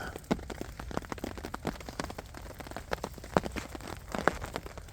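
Melting snow drips from trees in a winter woodland, scattered drops pattering and tapping irregularly on surfaces, a soft rain-like dripping with occasional louder plinks against a quiet outdoor background.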